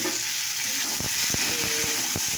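Potatoes and tomatoes frying in a pan give a steady sizzling hiss, broken by several distinct scrapes and knocks of a spoon being stirred through them, close and moderately loud.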